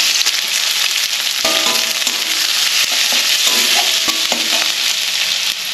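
Onions hit hot mustard oil with browned panch phoron in a wok, producing a loud, steady sizzle throughout, broken by occasional clinks and scrapes of a stirring spatula.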